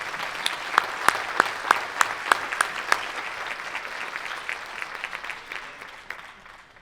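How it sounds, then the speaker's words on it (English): Audience applause at an awards ceremony for a Franklin and Warren County QRT team opens with several sharp, loud claps, then settles into fainter scattered clapping across a room. "Please give a round of applause to the Franklin,"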